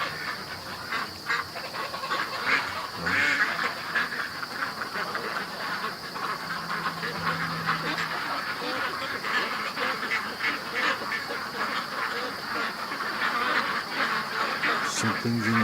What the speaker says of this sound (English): And the ducks keep freaking out